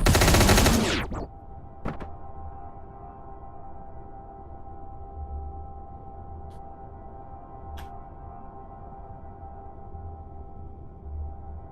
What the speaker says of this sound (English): this machine gun's pretty good.